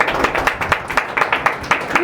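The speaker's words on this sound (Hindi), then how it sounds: "जोर से ताली बजाएगा।" Church congregation at a Sunday meeting clapping loudly in rhythmic bursts, many hands striking together in a steady, fairly quick pattern, close and prominent.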